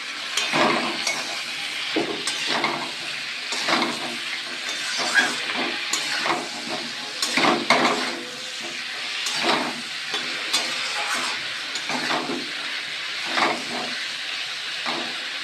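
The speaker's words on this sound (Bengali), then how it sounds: "লবণ হলুদের সঙ্গে আমি একটু কষিয়ে নিই" Spices with salt and turmeric sauté in a hot pan, a steady close sizzle and hiss broken by regular scraping bursts of stirring.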